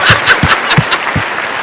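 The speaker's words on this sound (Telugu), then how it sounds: "ఆన్ ది స్పాట్ క్లాప్స్ కొట్టినారు మీకు ఆన్ ది స్పాట్" A studio audience clapping on a Telugu TV comedy show, several loud, close claps spaced out over about a second and a half, with a voice mixed in.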